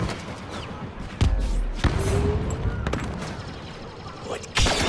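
Gunfire in a Star Wars Battlefront 2 battle: a steady wash of distant blaster fire with several loud, sharp close shots and thuds cutting through.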